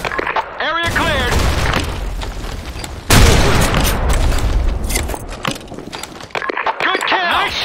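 Grenade explosion in the video game Blackshot, a loud booming blast that rolls into a sustained roar, followed by a second heavy burst midway, with gunfire and voices mixed in.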